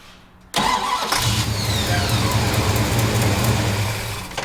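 A Dodge Coronet with 7-to-1 compression turns over and fires, its engine bursting loud after a brief quiet moment and settling into a steady, rough idle close by.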